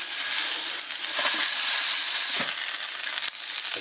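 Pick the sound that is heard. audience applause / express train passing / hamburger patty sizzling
hamburger patty sizzling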